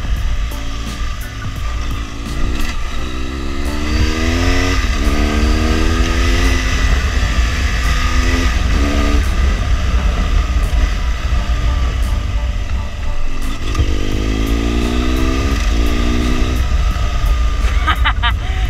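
A BMW R1200GSA adventure motorcycle rides by at a superbike festival, its engine droning loudly and rising and falling in pitch through repeated revs, with a voice talking over the roar.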